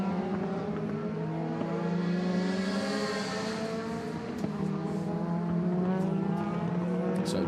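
A DTM touring race car at Hockenheim leaves the pits and heads onto the track, its engine droning steadily with rising and falling harmonic tones, close and loud throughout with faint background crowd noise.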